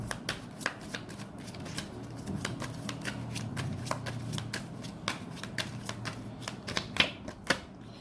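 Tarot cards shuffled by hand in a quiet room, with quick riffles and crisp snaps repeating in an uneven rhythm, close and fairly soft.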